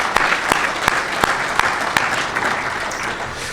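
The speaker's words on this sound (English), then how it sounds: "one more big round of applause for Rick" Audience applause at an education summit and annual meeting, a dense steady wash of many hands clapping throughout, with a few sharper individual claps standing out, fairly close and sustained.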